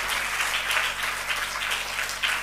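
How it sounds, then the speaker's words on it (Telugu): Church congregation clapping in praise of God during a fasting prayer service, a dense, steady wash of applause with no break, moderately loud and slightly distant. "చప్పట్లు కొట్టి దేవుని స్తుతించండి."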